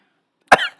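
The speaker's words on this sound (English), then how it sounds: "stop coughing. Now I'm getting a cough." A single sharp cough bursts out close to the microphone in a quiet room, brief and harsh with a short raspy tail.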